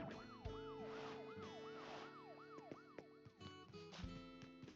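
A wailing electronic siren item in Animal Crossing: New Horizons cycles up and down rapidly and repeatedly, loud and continuous, layered over background music tones.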